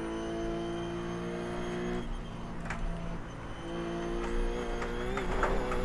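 A RUF C Spec race car in iRacing, engine droning steadily with clear harmonic whine, dipping briefly before building and rising again under acceleration toward the end.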